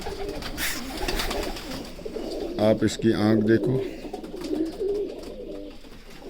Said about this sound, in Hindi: ये मेरा बटेरा कबूतर